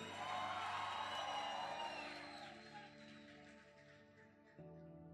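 A church congregation cheers and whoops loudly, a broad crowd roar at full strength that gradually fades, with a held musical tone sustaining beneath it.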